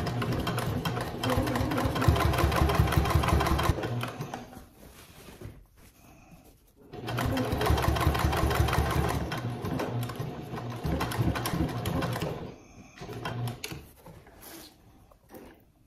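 A sewing machine top stitches around the edge of a fabric trick-or-treat bag, running in two long steady bursts with a short pause between and a brief stop near the end, close and alone without talk.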